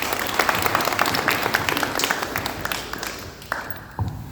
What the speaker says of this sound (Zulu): ngicela nishaye ihlombe